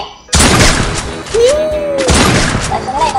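Gunfire in the mobile battle royale game Free Fire comes as loud bursts of shots and booms with a whistling streak, dense and close, while a player talks over the action.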